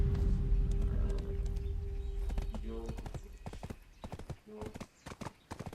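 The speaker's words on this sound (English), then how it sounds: "Let's go, horsey." Horse hooves clip-clopping at a gallop in the Black Desert video game, loud and steady at first, then thinning into scattered hoof beats with a brief neigh, a voice talking over it.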